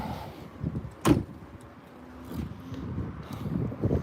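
A single sharp door-like thunk from a 1998 Rover 200 with a 1.4 petrol engine, loud and close in a quiet garage, followed by faint mechanical rumble and low background noise.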